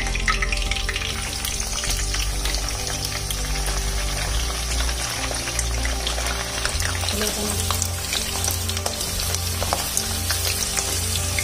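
Green chillies fry loudly in hot oil for a vegetable dum biryani, a dense continuous sizzle and crackle with scattered pops, close and steady throughout.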